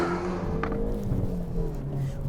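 A Hyundai i30 Fastback N with 275 hp drives with a steady, moderately loud exhaust drone, heard from inside the car.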